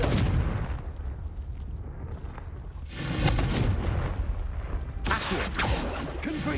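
A Confringo fire-blast spell in Hogwarts Legacy bursts in loud booming explosions, with a heavy blast near the start and two more sharp bursts later over a dense roar.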